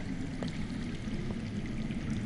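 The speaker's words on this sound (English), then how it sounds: "I hear water. From underground." Underground running water in a Game of Thrones video game, a steady low rushing flow that continues throughout and sits fairly faint under the game's ambience.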